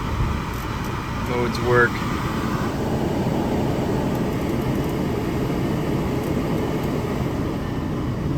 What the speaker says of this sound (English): the blower works